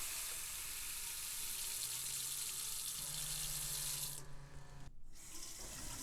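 Fresh water gushes steadily from a tap into a boat's freshwater tank, a close hissing rush whose tone shifts partway through before a brief break and resumption, with no talking.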